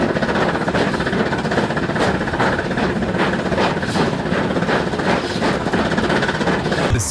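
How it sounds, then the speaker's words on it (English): A 1913 steam snowplow in Switzerland climbing a steep grade, pushed from behind by a century-old locomotive, gives a loud, steady mechanical rumble with faint regular chuffing pulses throughout. "a 1913 steam snowplow in Switzerland finally moved under its own power again, climbing steep grades with the help of a century-old locomotive pushing behind it"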